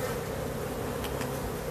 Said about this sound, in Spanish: Ella está en medio de las abejas.